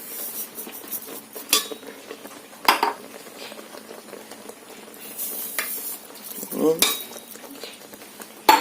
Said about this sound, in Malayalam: ഇനി നമുക്ക് നന്നായിട്ട് ഇളക്കി കൊടുക്കാം ഇനി കൈവിടാതെ ഇളക്കണം